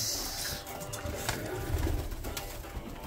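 Birmingham roller pigeons cooing in a loft, soft repeated coos over a busy rustling background with some wing and movement noise, no talk.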